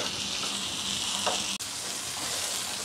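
Chicken fries in a pan for Bangladeshi grill chicken, giving a steady, close sizzle and crackle with one brief dropout, no voices over it.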